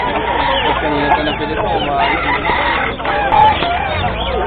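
A chicken clucks and squawks repeatedly up close at a market in Bulacan, with people talking over and around the calls.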